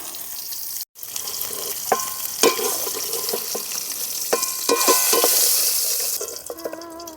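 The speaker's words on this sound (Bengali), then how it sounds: "ডিম আমার লাল করে ভাজা হয়ে গেছে। এবার আমি তুলে নেব।" Eggs seasoned with salt and turmeric fry in oil until browned, making a continuous close sizzle. Metal spatula scrapes and clinks against the pan come through now and then.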